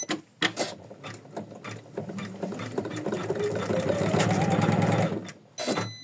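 An embroidery machine running a thin stitch at reduced speed of 600, starting with clicks and clatter, then settling into a steady rising mechanical whir with needle rattle before stopping abruptly, close and loud.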